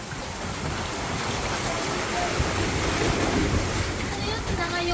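Big sea waves surging and crashing close to a house by a breakwater, a steady loud roar of surf mixed with wind buffeting the microphone, continuous throughout with no clear individual breaks.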